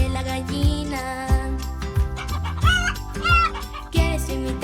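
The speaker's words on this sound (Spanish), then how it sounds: "Vamos a escuchar cómo hace la gallina." Hen clucking in a farm-animal sound demonstration, steady repeated clucks with a rooster-like crow, set over continuous loud children's song music with a rhythmic beat.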